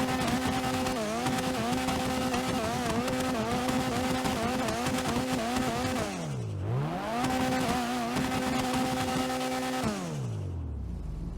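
Vapid GB200 rally-style car engine from GTA Online revving and accelerating through gear shifts, with a sharp drop in pitch on a shift and a winding down to idle at the end, loud and continuous with no talk.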